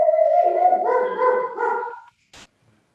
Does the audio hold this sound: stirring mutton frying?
no